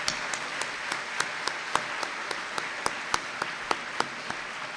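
Applause from a crowd at a high school senior recognition night, steady and fairly distant, with individual claps popping out above the wash of clapping.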